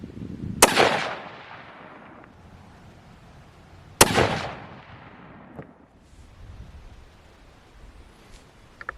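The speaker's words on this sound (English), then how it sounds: "All right, shot the last 3-shot group." Two loud 6.5-284 rifle shots fired at a target at an outdoor range, each a sharp crack with a decaying echo, about three seconds apart, followed by quieter rustling and faint handling noise.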